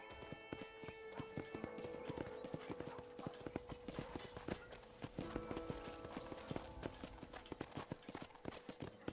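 Horse hooves clip-clopping in a steady, uneven rhythm in a corral in the video game Red Dead Redemption, fairly close, with a faint whinny and light background ambience.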